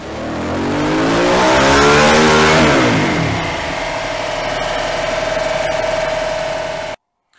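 A Harley-Davidson Pan America 1250 Special motorcycle engine on a dynamometer, in sport mode with traction control off, revs hard and climbs to a loud, sustained roar, then drops to a steady high drone before cutting off abruptly.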